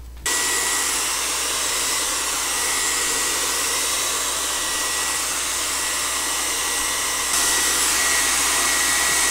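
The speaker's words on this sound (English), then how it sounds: "Now I'll get the blow dryer and I guess I'll get started with it." A blow dryer runs continuously close by, a steady loud whoosh heating a severely warped Pathe 78 RPM record, with a slight step up in strength near the end and no talk.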